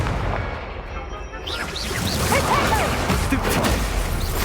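A Confringo fire spell from Hogwarts Legacy bursts in a fiery explosion, with whooshing, crackling debris and several whistling streaks trailing after the blast, all fairly loud with no talk.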